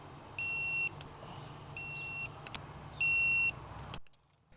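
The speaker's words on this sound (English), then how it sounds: "let's have a moment of silence to listen to these talking beeps" Three evenly spaced electronic beeps, each about half a second long and clear and steady, sound while a car's spark plugs are being refitted. A steady low hum of background noise sits underneath, and the sound drops away abruptly at the end.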